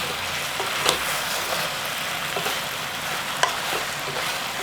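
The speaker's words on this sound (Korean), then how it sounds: "감자 넣고도 한 1, 2분간만 볶아주시면 돼요." Chicken stew with potatoes being stir-fried in a pan, a close, steady sizzle with occasional light scrapes and clicks from stirring, no talk.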